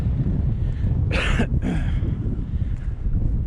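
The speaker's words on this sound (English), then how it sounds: "But it is quite windy." Continuous gusty wind buffets the microphone outdoors on Haytor, Dartmoor, a low rumbling roar with two brief hissy bursts in the middle.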